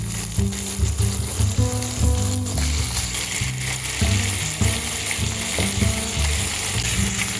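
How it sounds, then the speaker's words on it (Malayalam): Chicken pieces fry in oil in a pan, a close, steady sizzle punctuated by repeated scraping and stirring clatter, with no talk. "ഇനി നമ്മുടെ ചിക്കൻ ഇടാം."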